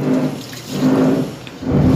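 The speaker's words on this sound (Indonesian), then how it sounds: "Dan saya mulai ngelap-ngelap meja dapurnya ya, dan dibilas lagi." Water runs steadily from a kitchen tap for rinsing while the counter is wiped, a continuous splashing flow with slight surges, fairly loud and close.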